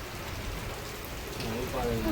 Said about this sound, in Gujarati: વરસાદ મસ્ત વરસાદ આવા